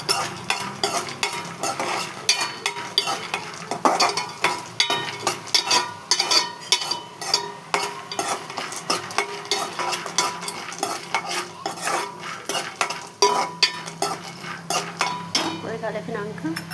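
Cashews and other ingredients stirred in a frying pan, a spoon scraping and clinking steadily against the metal with a light sizzle throughout, close and fairly loud.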